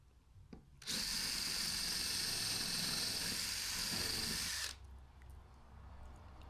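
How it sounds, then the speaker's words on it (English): A power drill countersinks pre-drilled holes in wood with a loud, steady high-pitched whine lasting about four seconds, starting and stopping abruptly against a quiet workshop. "So I'll drill in one way, go in the other way with a countersink."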